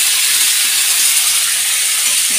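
Fish frying in a pan on a home stove, a steady, even sizzling hiss that holds close and loud throughout with no talking.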